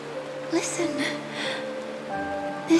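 Steady rain falling in Honkai: Star Rail, a soft, even hiss running throughout under sustained musical tones, with a voice speaking briefly over it.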